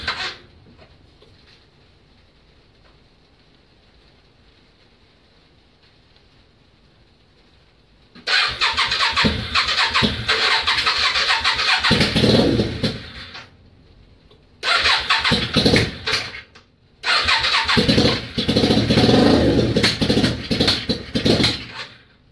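A Yamaha Virago XV535 motorcycle engine starts after several seconds of near silence, then runs loudly up close in three separate bursts with short pauses between them.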